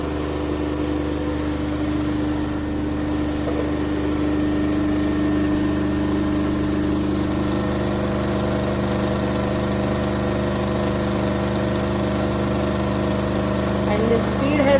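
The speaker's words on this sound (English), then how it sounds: "Just now the motor is running as a synchronous motor." A synchronous motor running steadily at about 1500 RPM, giving a constant mechanical hum with stable tonal lines and a faint background whine, even and unbroken throughout.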